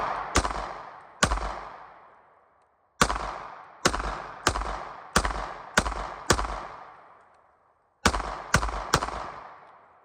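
Sharp gunshots from a Taurus pistol ring out in uneven bursts, about a dozen loud close cracks each trailing off in a short echo, with brief pauses between groups of two and three shots.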